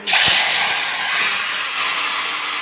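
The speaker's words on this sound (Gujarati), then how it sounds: "વઘાર કરી નાખ્યો છે" Cumin seeds hit hot oil for a tempering, setting off a loud, steady, hissing sizzle that starts abruptly and holds evenly, heard up close and alone.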